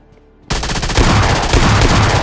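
Automatic gunfire in the mobile shooter game PUBG Mobile Lite breaks out after a short quiet moment as a loud, rapid, continuous burst of evenly spaced shots that lasts to the end.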